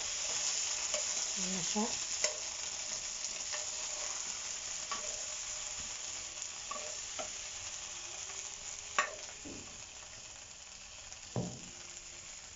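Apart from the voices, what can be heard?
stirring eggplant into sizzling beef kare-kare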